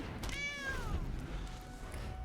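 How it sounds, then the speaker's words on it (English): A single drawn-out cat meow, sliding downward in pitch, sounds as the Warehouse Tabby card plays in the MTG Arena digital card game, clear and close over a faint background. "Meow, warehouse tabby."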